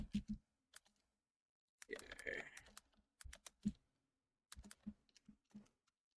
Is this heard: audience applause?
no